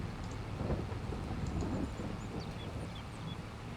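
Steady rain with low rumbling thunder in the Farming Simulator 22 video game, a continuous wash of noise with faint chirps above it and no talking.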